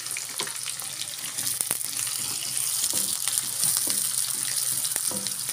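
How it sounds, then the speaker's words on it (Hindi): Onions fry in hot oil over a high flame, a steady dense sizzle with crackling pops throughout and a few sharp clicks of utensils on the pan, all without voices. "दो मिनट के लिए हम अपनी प्याज को फ्राई करेंगे।"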